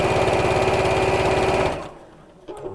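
A sewing machine stitches fabric for a drawstring pouch, giving a steady, rapid, close mechanical whir for under two seconds before stopping abruptly, leaving near quiet.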